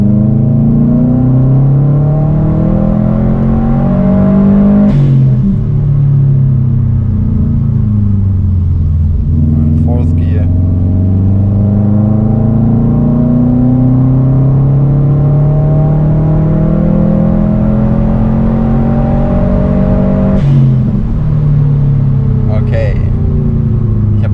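Subaru WRX STI pulling hard at full throttle through second into third gear on a German Autobahn: loud, sustained engine drone rising steadily in pitch, a brief dip at each gear change, with a voice talking over it.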